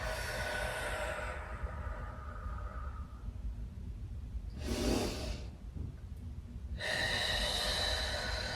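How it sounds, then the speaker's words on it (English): Deep yoga breaths, a long drawn inhale followed by a strong airy exhale and another rushing breath, loud and close with no talk. "Inhale and exhale."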